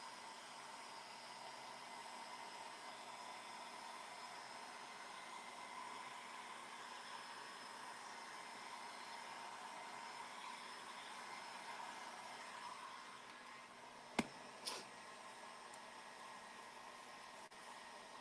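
A hair dryer blows steadily on a craft project, a continuous airy whoosh held at close range and even loudness throughout, broken near the end by a couple of brief sharp clicks.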